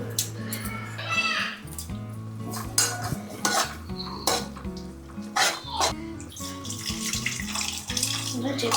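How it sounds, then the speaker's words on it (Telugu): Tamarind juice is poured into a pan of dry fish and egg curry, making soft splashing with intermittent clinks of utensils, and a voice is heard faintly around it. "ఇప్పుడు చింతపండు పులుపు పోసుకోవాలి."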